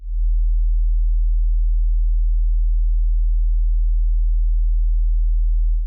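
A steady 40 hertz sine tone plays back alone for six seconds, a loud, unbroken low hum with no talk over it.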